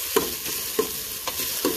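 Ginger and aromatics sautéing in a pan for Visayan adobong puti: a crisp sizzle broken by four rhythmic scraping stirs of a utensil, close and fairly loud, with no talking.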